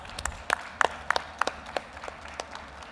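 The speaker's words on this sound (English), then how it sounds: "huge round of applause." A few people clap unevenly at a crypto expo stage in Dubai, a sparse, irregular series of sharp, nearby claps over a low room hum.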